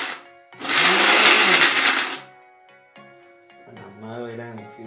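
A mixer grinder whirs loudly for about two seconds as it blends chocolate mix with milk, then cuts off, followed by clattering and a person talking.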